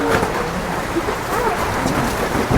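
Steady rain pours down in a continuous, close hiss of drops striking surfaces, with low rumbling underneath and no voices.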